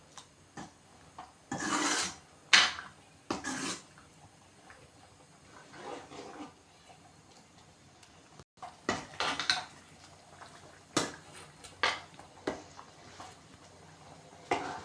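Metal spoon scraping and clinking against a pot while tamarind is stirred into a green brinjal curry with carrot and potato, irregular bursts of scraping and taps at close range, no voices.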